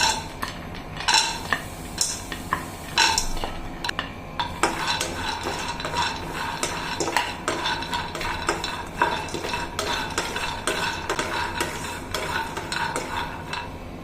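Almonds and groundnuts are stirred in a hot pan, the spoon scraping and clinking in a busy irregular rhythm while the nuts rattle and faintly sizzle, close by and steady for the whole stretch.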